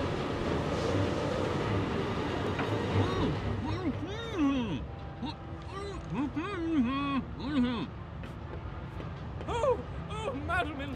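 A runaway train with its brakes dismantled rolls along the rails in the game Forgotton Anne, a continuous low rumble and clatter under a voice talking over it.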